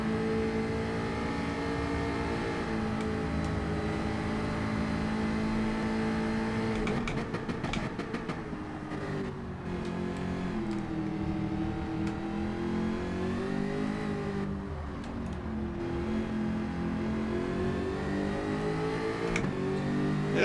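A Gr.4 race car in Gran Turismo 7 howls at full throttle, its engine note steady and loud, climbing through revs with brief dips at gear changes, alone without talk.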